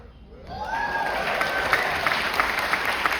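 Audience applause at a juggling show by Manuel Zuniga: dense, steady clapping swells in after a half-second and continues loud throughout, with a brief rising whistle-like tone near the start.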